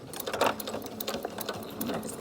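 A sewing machine stitches fabric for a 3-D singer's face mask. It gives a quiet, busy mechanical whir with small clicks and taps, close and continuous, and no talk is heard.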